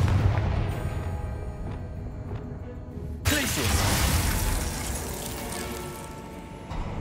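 The Confringo spell in Hogwarts Legacy sets off an explosion: a sudden booming burst with shattering debris and a long rumbling decay, over game sound and someone speaking.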